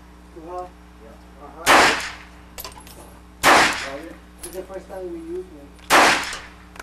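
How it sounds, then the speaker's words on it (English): Three sharp, loud gunshots from a .25 automatic pistol ring out about two seconds apart, with someone talking quietly in the gaps between them. "Let's try it out. I got 3 rounds of 25 automatic in there."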